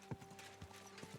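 A horse in Kingdom Come: Deliverance II walks slowly, its hooves giving four soft, evenly spaced clip-clops over quiet background ambience.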